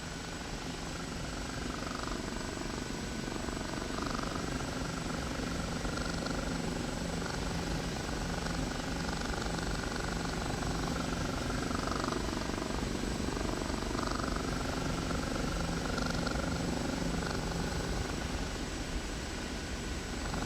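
An OH-58 Kiowa helicopter in the DCS flight simulator speeds up and swings through a quick 180-degree turn. A steady, dense rotor and engine drone continues throughout at a constant close level.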